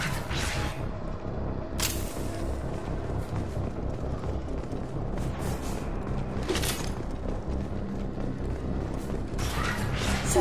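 In the video game Mass Effect 2 on Lazarus Station, a mechanical door to the service tunnels grinds open with creaking, ratcheting machinery and a few sharp clanks over a low rumbling hum.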